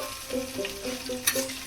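Ginger-garlic paste sizzles in hot oil with onions for a Bengali egg curry, a spatula scraping and stirring through it in a few strokes, with a sharper clatter near the end.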